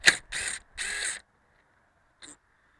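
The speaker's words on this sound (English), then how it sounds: "Now we need to pull the bolt for the harmonic balancer." A ratchet loosening the harmonic balancer bolt on a 2004 Chevy Tahoe: three close, loud bursts of rapid clicking, the last one longest, followed after a pause by a single short faint click.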